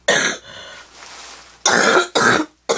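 A cough followed by a couple more sharp, throaty coughs and throat clearing, close and loud, with short pauses between them.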